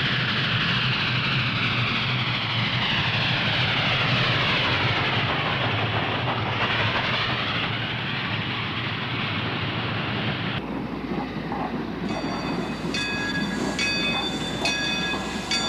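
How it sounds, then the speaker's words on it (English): A westbound passenger train from Allentown, hauled by a CNJ Pacific steam locomotive, rolls into Reading station with a loud continuous rumble and wind buffeting, then a shift to softer wheel noise and thin metallic squeals. "First to arrive is westbound train 195 from Allentown with CNJ Pacific"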